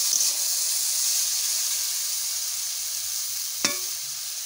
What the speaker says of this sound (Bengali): দেখো কি সুন্দর এরকম লাল লাল করে উস্তে ভাজা করে নিচ্ছি